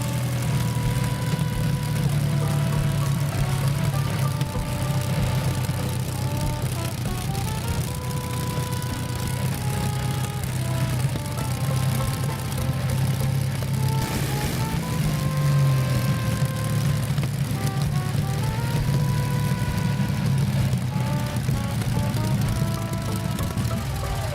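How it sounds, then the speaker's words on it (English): Allen 3S47 and OM444A industrial engines run together in a steady, heavy, low rumbling drone with a constant pounding throb and a whining overtone that shifts slightly, loud and close with no voices. "Allen 3S47 and OM444A. Industrial beats that hit your chest."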